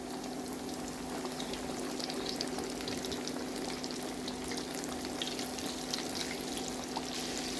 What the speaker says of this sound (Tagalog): Let's fry until they become golden brown.